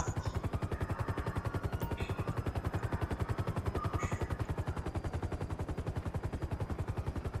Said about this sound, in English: Shots fired, blowing tires out.